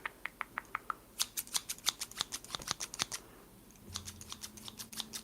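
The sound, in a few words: scissors snipping for ASMR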